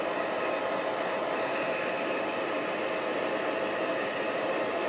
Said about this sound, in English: I'm gonna take my blow dryer and dry it.